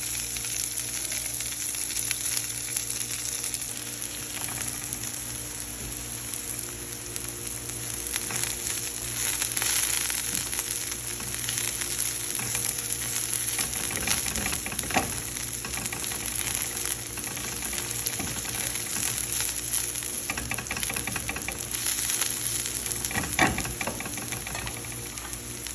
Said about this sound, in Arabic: مجرد ما يبدأ يحمر البصل عندي راح اضيف عليه بصل اخضر، احركه كويس